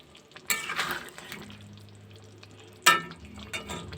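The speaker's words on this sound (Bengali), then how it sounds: "এবার খুব ভালো করে নেড়ে চেড়ে মিশিয়ে নেব।" A spoon stirring and mixing potato and egg curry with garam masala in a pan: two sharp scraping, sizzling bursts of stirring, with a softer stretch of quiet cooking between them.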